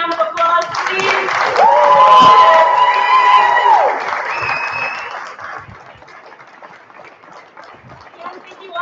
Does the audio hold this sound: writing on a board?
no